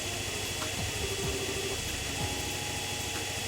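A noisy, clattering engine from the video game Trails in the Sky, newly switched on and running, gives off a steady, loud droning rumble with rattling texture that fills the whole moment without any talk.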